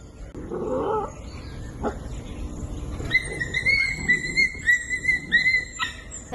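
Stray dogs on a town street whine and yelp in a series of high, wavering cries with a low growl, heard over faint background noise.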